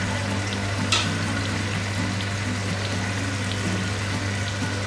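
Seasoned food with chili flakes, black pepper and salt being stirred, with the spoon and food scraping and churning in a loud, continuous, close texture and one brief sharper scrape early on, with no speech.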